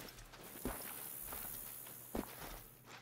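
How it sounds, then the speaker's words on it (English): A black bear runs past in the hunting game theHunter: Call of the Wild, its footsteps coming as a few soft, scattered thuds over a steady ambient outdoor bed, fairly faint and with no voices. "I was about to say, I heard the footsteps"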